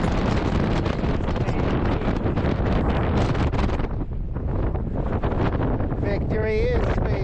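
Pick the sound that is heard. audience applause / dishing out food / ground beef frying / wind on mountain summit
wind on mountain summit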